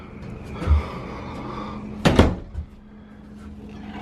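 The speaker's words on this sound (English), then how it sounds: "I can close this door" A door swings and shuts with a sharp wooden knock, preceded by a soft bump and followed by a faint rattle.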